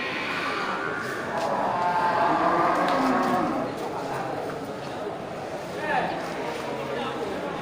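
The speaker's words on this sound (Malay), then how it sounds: "Indukan kerbau besar ya." Large black water buffalo cows at a livestock market give long, low mooing calls over the crowd's background murmur, with someone talking nearby throughout.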